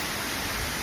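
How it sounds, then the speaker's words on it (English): Outdoor waterfalls roaring steadily, a dense continuous rush of falling water filling the whole clip with no voices. "sit here and listen to these waterfalls"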